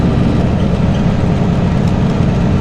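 An old semi truck's engine idles, giving a loud, continuous low rumble that stays steady throughout with no speech.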